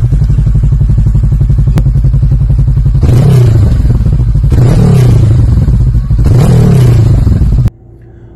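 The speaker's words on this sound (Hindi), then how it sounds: "डीबी किलर के साथ में साउंड कुछ ऐसी है" Honda 300 Rebel motorcycle fitted with an Arrow exhaust and dB killer, idling with a steady low rumble, then three loud revving bursts that rise and fall before the engine cuts to a quieter idle.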